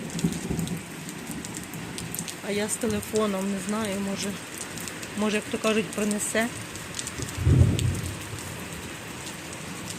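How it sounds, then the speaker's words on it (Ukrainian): Steady rain patters on surfaces outdoors during a summer storm, and a low roll of thunder swells briefly near the end, while a person talks over it in between. "Боже, гримить."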